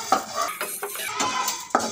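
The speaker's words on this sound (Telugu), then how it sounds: "కొన్ని వేసుకొని బాగా కలపాలి" Sorghum grains stirred in a hot pan over high heat, with a utensil scraping and clinking against the metal in quick repeated strokes, close and clear.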